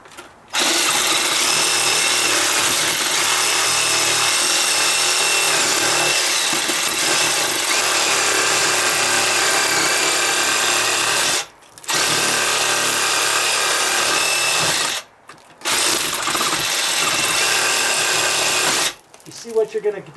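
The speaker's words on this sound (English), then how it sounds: "You see what you're going to be up against when you're using the Sawzall?" A Sawzall reciprocating saw cuts through dry-rotted deck wood with a loud, steady buzzing rasp that runs almost without a break, stopping briefly twice before starting again.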